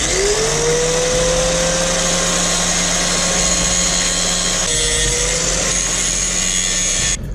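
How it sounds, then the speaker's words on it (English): A power tool grinds down a generic aftermarket pulley for a Z31 300ZX, a loud continuous whine that rises in pitch at the start and holds steady, dipping briefly near the five-second mark before stopping at the end. "let's go ahead and grind this down now"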